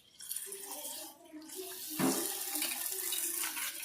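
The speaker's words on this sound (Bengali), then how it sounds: "এদিকে আমি ডালটা ধুয়ে নিচ্ছি।" Lentils (dal) are washed under a running kitchen tap, a steady rush of water that swells into a louder splash partway through, close by.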